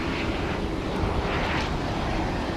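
Airplane engine droning at DFW Airport at night, a steady broad rumble heard from a distance, fairly faint and without talk.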